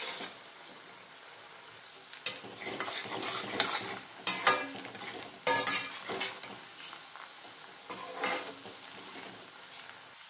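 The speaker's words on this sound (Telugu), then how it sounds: "సాల్ట్ వేసినాక మనకు ఎర్రగా వచ్చేదాకా వేయించుకోవాలి" Chicken fry ingredients sizzling and frying in a pan with salt, stirred at intervals with sharp scraping clatters of a spoon against the metal over a steady crackling hiss.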